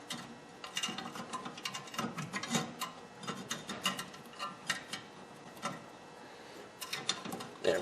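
A hand ratchet clicks in quick, uneven runs of ticks while turning caliper bracket mounting bolts on a Honda Civic during front wheel bearing work, close and fairly quiet, with brief pauses between strokes.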